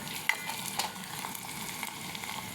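Onion, green chili and curry leaves fry in oil in a steel pot, giving a steady, soft sizzle with a few small pops, close and fairly quiet, with no talking.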